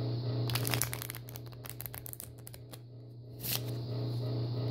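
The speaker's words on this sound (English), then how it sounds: "for this video, it's gonna be a riffle shuffle" Riffle shuffle of a deck of playing cards, a quick burst of flicking, fluttering card edges followed by a brief second ripple, close up over a steady low hum.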